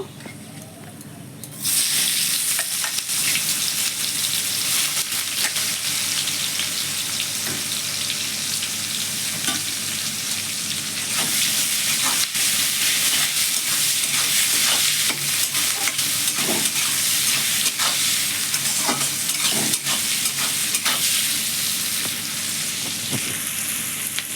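Onions fry in oil with whole garam masala (cardamom, cloves, cinnamon, black cardamom), a steady loud sizzle running throughout with frequent scrapes and stirring clatters, no talk.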